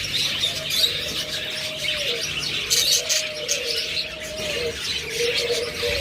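Caged pet birds for sale, such as lovebirds and finches, chirp and coo continuously at close range, their repeated calls overlapping in a busy aviary chorus with no talking.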